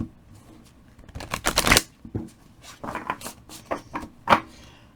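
A deck of tarot cards riffles and shuffles in several quick bursts, close by, with soft papery flutters between louder runs.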